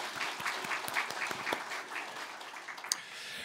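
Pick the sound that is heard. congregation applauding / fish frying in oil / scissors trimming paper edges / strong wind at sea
congregation applauding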